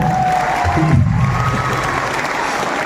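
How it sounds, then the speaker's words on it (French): An audience at a Chinese New Year spring festival gala breaks into dense, steady applause that fills the hall at close range and continues unbroken throughout. "applaudissons car c'est vrai."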